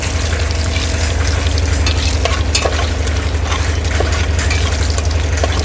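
Mustard seeds, cumin and split black gram crackle and sizzle steadily in hot oil for a home-cooked biryani tempering, a dense, continuous fry with small pops throughout and no voices.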